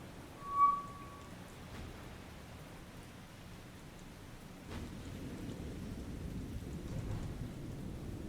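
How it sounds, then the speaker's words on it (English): Rain and rolling thunder in the naval combat game War on the Sea set in the Mediterranean: a brief tone, then a soft, steady hiss of rain that thickens after a low thunder rumble, quiet and without voices. "Damn rain."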